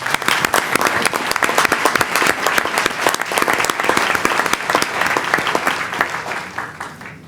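Loud, sustained applause from an audience at a Portsmouth, Virginia city council meeting, dense clapping continuing steadily throughout with no talking.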